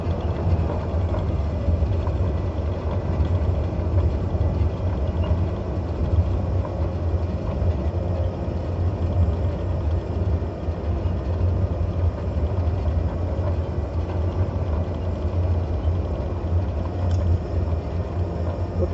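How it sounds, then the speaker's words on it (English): Full reverse thrust roars from a landing airliner's engines in Microsoft Flight Simulator 2020 during a stormy flight through Kenya, a loud, steady, unbroken rumble that lasts throughout with no talk. "And we'll give it full reverse thrust."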